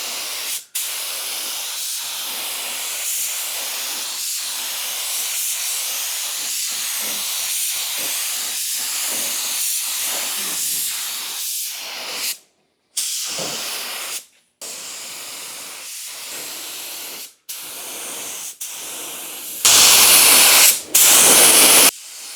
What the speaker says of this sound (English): look how nice this gun applies the sealer